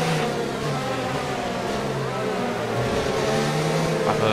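An F1 2019 car sits on the grid at the Chinese Grand Prix, its engine held at high, steady revs for a full race start, a loud continuous whine with slight wavering pitch.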